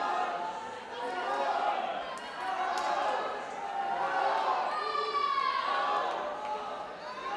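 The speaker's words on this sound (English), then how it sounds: "The swimmers' teammates applauding them on the side of the pool." Teammates on the pool deck at a high school league swimming championship cheer and holler for the swimmers, a continuous echoing crowd roar with whistles and shouts, steady and loud throughout.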